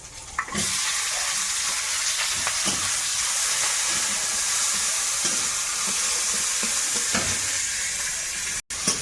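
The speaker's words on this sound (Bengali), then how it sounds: "লঙ্কাটা একটু ভেজে নিয়ে এবার পেঁয়াজ কুচি আর রসুন কুচিটা দেবো" Dried chili, chopped onion and garlic fry in hot oil in a wok, giving a loud, steady sizzle that fills the whole stretch, with occasional stirring scrapes and no talking.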